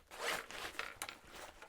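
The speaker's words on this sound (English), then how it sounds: "you could open them and you have a second zipper" A packing cube zipper on a backpack is pulled open in a few quick, quiet rasping strokes at close range, with no talk.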